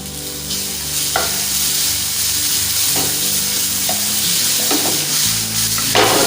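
Grated raw mango hisses and sizzles loudly in a hot pan, with repeated spatula scrapes and stirring knocks cutting through the constant frying.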